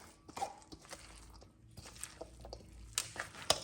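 Angel hair pasta salad with dressing being stirred gives soft, wet squishing and sticky clicking sounds in irregular bursts, close and fairly quiet, with no talking.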